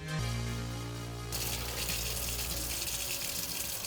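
Tap water runs steadily into a sink while the used racks from a GE Profile Smart Indoor Smoker are hand-washed. A constant gushing rush swells louder partway through, over a faint low hum at the start.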